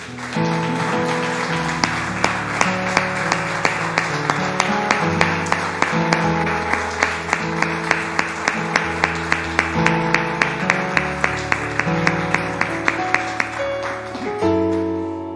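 During a Spanish-language worship service, the congregation claps along in a steady rhythm over sustained, chord-rich music, with sharp, evenly spaced claps throughout.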